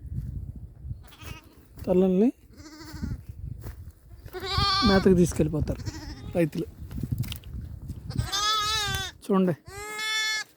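Young goat kids and lambs kept together standing in water out of the sun on a farm bleat loudly and repeatedly, high wavering cries overlapping one another, while someone talks over them.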